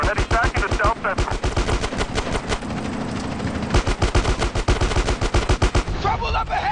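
Rapid sustained automatic gunfire in the game GTA San Andreas, loud and close, with dense bursts that continue almost without pause and a brief lull in the middle.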